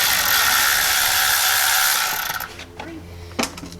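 A ratchet with an extension and reducer tightens water pump bolts on a 2003 GMC Yukon Denali, giving a few short clicks and taps near the end after a broad, steady hiss fades out.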